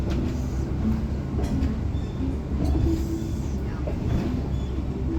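A train rolls steadily along the old Pennsylvania Railroad right-of-way on a Lincoln Funeral Train ride, giving a loud, continuous low rumble with faint rhythmic clicks from the rails and no talk.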